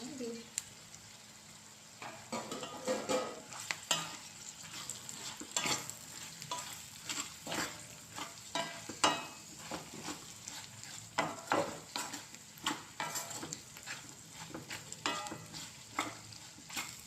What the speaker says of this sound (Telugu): కాకరకాయ వేసేస్తున్నాను.